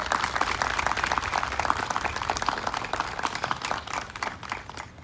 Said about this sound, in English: Please join me in giving a round of applause to our generous donors of scholarships and